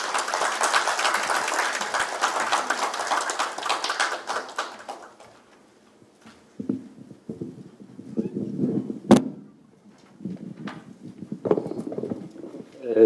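Warm applause welcoming a speaker to a Korea University biodefense session, steady clapping for about five seconds that fades out, followed by quiet room noise, a sharp knock and faint shuffling.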